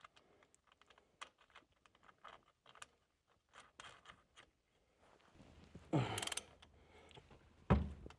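A torque wrench tightens the steering column bolt on a Squarebody truck: small scattered ratcheting ticks and mechanical clatter, then a louder burst and a sharp closing click, near and alone.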